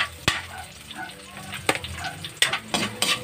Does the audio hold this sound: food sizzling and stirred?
yes